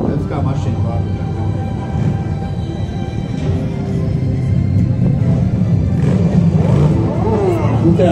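A vehicle in a town festival parade at Grobiņa rumbles past loudly with a steady, swelling engine roar, while people nearby talk over it and a crowd murmurs in the background.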